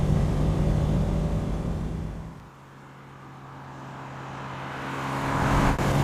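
A 1967 Mercedes 250SL Pagoda driving through a tight S-curve, its engine note loud and steady, easing off briefly midway, then building again as it accelerates out of the bend, with no talking.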